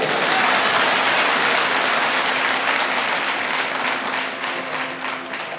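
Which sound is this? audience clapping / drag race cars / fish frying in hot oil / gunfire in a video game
audience clapping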